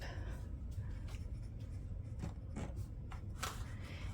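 A pen scratches quietly in a paper budget book as dates and entries are written in, in short irregular strokes close to the microphone.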